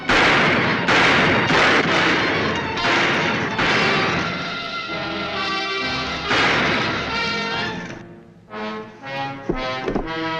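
Repeated loud gunshots in a western firefight, cracking in rapid irregular volleys with echoing crashes, then thinning out into a few scattered shots near the end.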